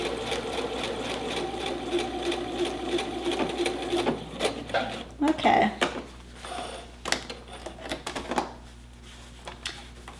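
A sewing machine runs a 5/8 inch seam with a steady mechanical whir, then stops. Clicks and handling noises follow as a person speaks.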